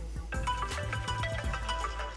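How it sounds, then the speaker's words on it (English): An iPhone 8 ringtone plays a short bright melody of repeating tones over a low bass pulse, with no talking. "I go in here and change my ringtone."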